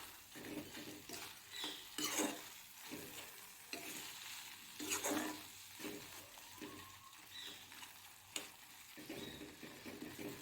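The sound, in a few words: stirring taro pitika in a pan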